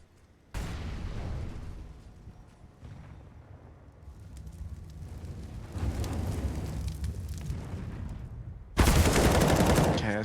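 Gunfire in a Counter-Strike match on the Vertigo map: dense bursts of game weapon fire and impacts under a steady mix, rising to a loud sharp volley near the end, with no voices in the clip.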